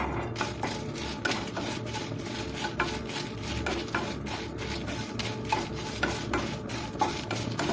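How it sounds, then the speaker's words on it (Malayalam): Garlic dropped into a pan of dry-roasting red chillies for homemade sambar powder, giving a steady close scraping and stirring rustle with light clinks of utensil on metal throughout. "മുളകിലേക്ക് വെളുത്തുള്ളിയും കൂടെ അങ്ങ് ഇട്ട് കൊടുക്കാം."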